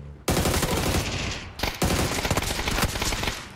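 Automatic gunfire in PUBG: rapid, loud bursts of shots fired in quick succession, with a short pause before the shooting resumes in dense strings.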